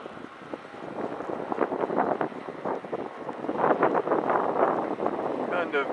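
Gusty wind buffets the microphone in uneven rumbling bursts that build and fade, with a rushing, roaring quality throughout, outdoors during a drone flight.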